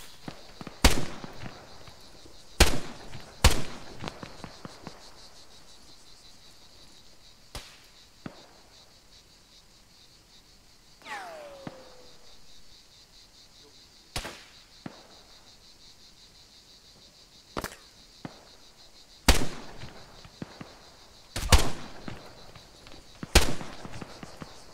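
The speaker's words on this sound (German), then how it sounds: "Also irgendjemand schießt hier gezielt auf uns." Gunfire aimed at players in the military shooter Arma 3, sharp isolated shots cracking at irregular intervals, some loud and close, others fainter, over a steady insect-like background drone.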